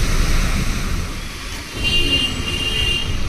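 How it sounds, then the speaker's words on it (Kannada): Heavy rain on a car during a drive through Mysore, a steady broadband wash of water over road and engine noise, continuous and fairly loud with no voices. "ನೋಡಿ, ಮಳೆ ಬರ್ತಾನೇ ಇದೆ."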